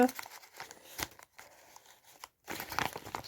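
Crinkling of a small plastic bag, rustling in short bursts with brief pauses, close by.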